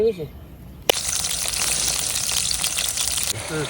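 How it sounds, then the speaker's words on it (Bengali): Onion, ginger and cumin paste sizzling loudly in hot oil at an outdoor picnic before duck meat is added, a steady burst of frying for about two and a half seconds with voices talking briefly before and after. "প্রথম দিয়েছি তেল, তারপরে পেঁয়াজ দিয়ে তেলটা কষাই, আদা দিয়েছি, আদা জিরা বাটা কষাইতেছি।"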